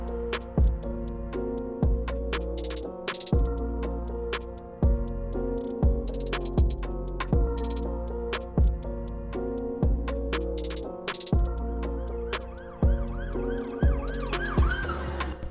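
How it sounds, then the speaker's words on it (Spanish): A trap beat with punchy booming bass, rapid hi-hat rolls and a wailing siren-like synth melody, played alone and loud throughout. "Es un trap, suena así."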